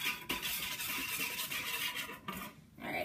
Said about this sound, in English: And then I'm just gonna mix it.